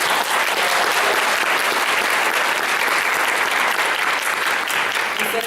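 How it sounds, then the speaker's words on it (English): A seminar crowd breaks into loud, sustained applause, a thick and even roar of clapping heard close up that holds steady for several seconds. "So everybody give a huge round of applause."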